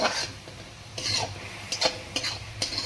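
Milk is poured into grated bottle gourd roasting in a pan for lauki coconut ladoo, bringing soft, quiet hissing and brief stirring scrapes that come and go in a few short bursts, close up.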